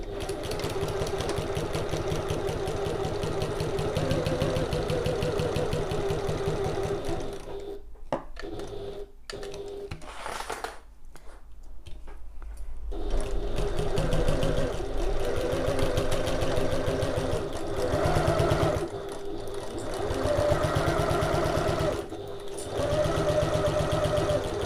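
A sewing machine stitches back stitches at regular stitch length while sewing a fabric passport folio, a steady close mechanical whirr that stops briefly several times before starting up again.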